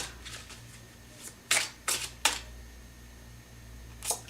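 A tarot card is drawn from the deck: a few quiet, crisp paper slaps and flicks, close and soft against a hushed room.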